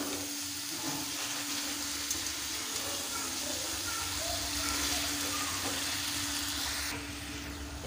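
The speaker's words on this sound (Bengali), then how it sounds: "শাকগুলোকে আমি নেড়ে চেড়ে একটু কষে নেব।" Pumpkin greens stirred and sautéed in a pan, giving a steady soft sizzle and hiss with faint scraping of the stirring throughout, fairly quiet and unbroken.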